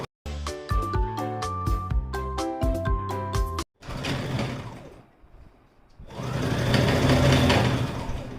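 A sewing machine stitches a palazzo seam in quick loud bursts of rapid rhythmic clatter with brief pauses, then a stretch of softer rustling and handling noise.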